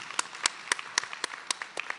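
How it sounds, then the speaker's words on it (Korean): An Easter service congregation at a Korean church claps in unison, a brisk, even rhythm of sharp claps about four per second, moderately loud and unaccompanied by talk. "다시 한번 영광의 박수를 부활의 주님께 올려드리겠습니다."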